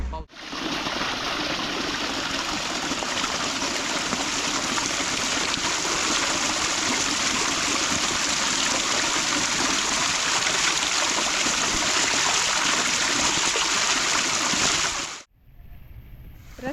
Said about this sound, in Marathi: त्याच्या कड्याला असं पाणी चालू झालंय